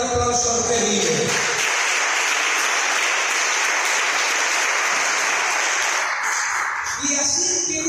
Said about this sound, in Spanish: Den un fuerte aplauso al que vive.